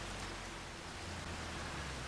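Steady rain falls in Farming Simulator 25, a soft, even hiss with no breaks, faint and continuous throughout.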